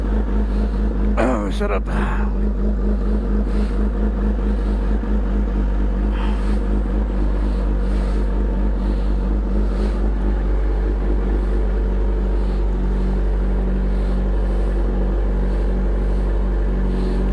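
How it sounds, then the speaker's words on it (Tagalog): A Kawasaki ZH2 supercharged motorcycle idles steadily while warming up on a hot day, its low, even engine rumble running throughout, with a person talking over it near the start. "So painit lang tayo ng bike."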